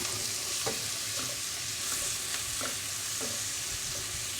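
Garlic stirred into a sizzling frying pan: a constant bright hiss with several distinct scrapes and taps of a utensil at irregular intervals, close and clear, no talking.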